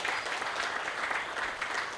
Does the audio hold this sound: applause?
yes